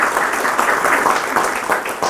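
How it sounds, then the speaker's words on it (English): A dinner audience at a breast cancer awareness event applauds together, a dense, steady wash of many hands clapping at close range that holds for about two seconds without letting up. "if we could give our board a round of applause"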